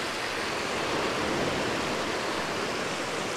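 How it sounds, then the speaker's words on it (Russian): Freshwater stream on a beach at Paraty, Brazil, rushing in a steady, dense broadband wash, close and constant with no pauses. "течет такой вот ручей пресной воды"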